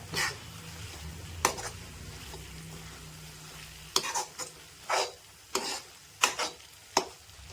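Onions and coriander sauté in a pan for egg thokku with a low, steady sizzle. A utensil scrapes and stirs against the pan in several short strokes.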